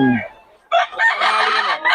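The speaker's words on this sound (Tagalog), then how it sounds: "Ito, white leghorn." A White Leghorn rooster crows loudly and close by, one long strained call after a brief clucking note and a short pause.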